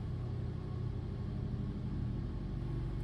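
A Formula Atlantic race car engine runs on a dyno at 5,000 rpm, a steady low rumbling drone holding an even pitch throughout, with no voices.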